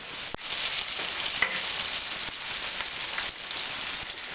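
Crab meat mixture with Spanish olives stirred in a hot pan, giving a steady, continuous sizzle with soft scraping throughout and a few brief clicks of the utensil against the pan.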